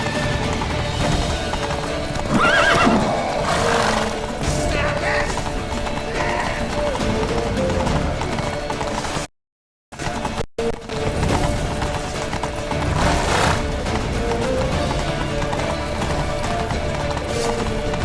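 Horse hooves clip-clop at a gallop in The Witcher 3 video game, with an occasional whinny, loud and continuous over game music and effects, briefly cutting out midway before resuming.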